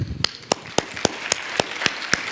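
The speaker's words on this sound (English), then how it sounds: "Why don't we applaud for them?" Rhythmic unison clapping from a small audience, about nine sharp evenly spaced claps, near and fairly loud, with faint murmuring at the start.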